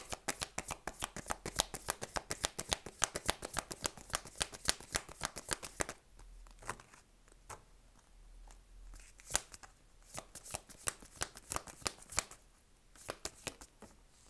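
A deck of cards is shuffled in a rapid, dense riffle of crisp flicks, then single cards are drawn in sparser snaps and slides, close up and quiet, with no voices.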